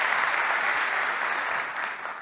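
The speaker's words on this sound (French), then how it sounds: "On vous applaudit." Audience at a conference applauding, a thick, steady patter of many hands clapping together, fairly close and sustained for a couple of seconds with no talk over it.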